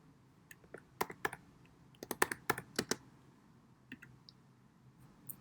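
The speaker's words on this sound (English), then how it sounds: "So I'm just typing in a Sydney residential address." Keys clatter on a computer keyboard as a residential address is entered, quick close clicks in short bursts with small pauses, then a few sparse taps at the end, alone in a quiet room.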